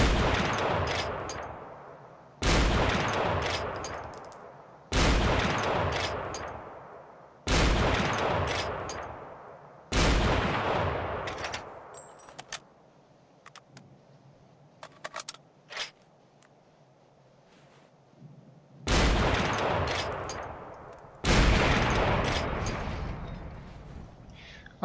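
An anti-tank weapon fires repeatedly at a Panzer IV in the World War II shooter game Forgotten Hope 2: six heavy blasts, each booming loudly and decaying slowly, spaced a few seconds apart with a longer quiet gap before the last two.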